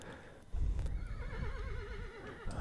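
Horses in the RimWorld colony game whinny loudly, with a long wavering neigh over clip-clopping hooves and a dense game backdrop.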